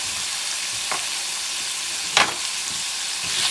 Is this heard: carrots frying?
yes